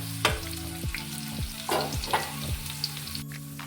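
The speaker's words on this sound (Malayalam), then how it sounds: "സവാള ഇട്ട് നല്ലതുപോലെ ഒന്ന് വഴന്നു വരും" Sliced onions sizzle and fry in hot oil for an egg biryani masala while a spoon stirs them in steady repeated scrapes, close and fairly quiet with no talk.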